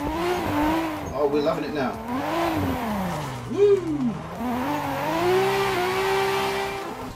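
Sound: race car engine revving and tires squealing, Assetto Corsa video game

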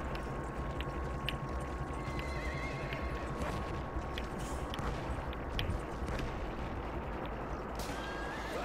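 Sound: horse neighing in the video game Battlefield 1

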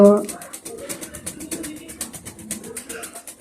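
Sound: pigeons cooing

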